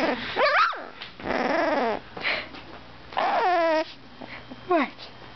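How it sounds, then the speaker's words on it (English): A two-week-old puppy lets out a few short squeaky barks and high whimpering growls in separate close bursts, with a person talking softly between them. "What are you barking at, Dasher, huh?"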